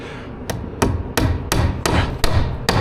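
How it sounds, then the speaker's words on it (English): A hammer drives a nail in at a slight angle, eight sharp, evenly spaced strikes about a third of a second apart, loud and close with no talking. "Put a nail in on like a slight angle and we'll hook a string to that."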